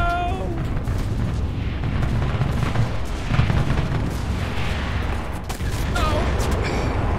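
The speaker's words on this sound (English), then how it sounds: "Oh, grenade! Grenade! Run!" A grenade blast in the World War II shooter Enlisted, one dull, heavy boom amid continuous rumbling gunfire and battle noise, with a player's voice talking over it.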